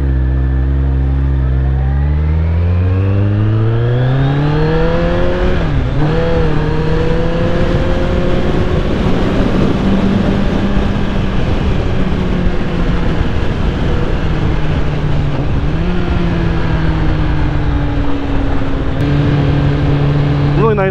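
A Kawasaki ZX14R motorcycle in the game PUBG, its engine note climbing quickly and then holding a loud, steady drone that dips and swells slightly. The sound is continuous and close.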